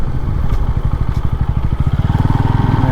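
Motorcycle engine on a ride near Manjalar Dam, running loud and close with a steady pulsing throb that quickens toward the end as the bike accelerates, with no talking.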